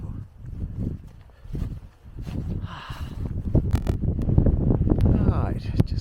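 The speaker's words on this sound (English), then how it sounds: "Very windy, as you can tell from the background noise." Strong gusting wind on a mountain top about 1600 metres up in New Zealand's Richmond Ranges buffets the microphone in heavy low rumbles, rising and falling, with a voice speaking faintly underneath.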